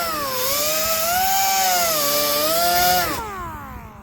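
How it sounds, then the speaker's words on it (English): A wire wheel on a power tool spins against welded sheet metal on a Ford Bronco roof patch. It gives a loud, steady, high-pitched whine that wavers slightly in pitch, then winds down near the end. "So I got this cleaned off with the wire wheel, looking pretty good."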